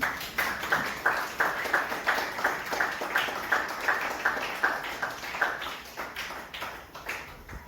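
Audience applause at the inauguration of a school library, right after a student's speech on reading: a steady, moderate patter of many hands clapping without pause, easing slightly toward the end.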